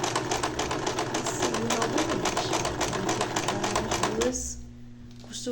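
A sewing machine runs fast and steadily, stitching bias tape along a printed chita cotton dish towel, then slows and stops near the end. A voice is faintly present under the machine's whirr.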